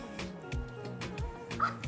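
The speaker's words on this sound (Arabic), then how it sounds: "بص الكلب الجميل ده" Small dog giving a run of short, sharp yips and barks, close and fairly loud, several quick calls in an uneven rhythm.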